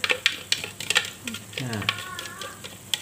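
Blended chili sambal fries in a little cooking oil while a spatula stirs it, giving a soft, crackling sizzle broken by scraping taps against the pan. Someone speaks briefly over the cooking.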